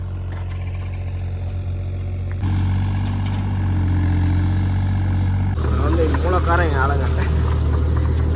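A Tata 33U truck engine rumbles steadily in low tones as it drives, the drone shifting in pitch and intensity, with someone talking over it throughout.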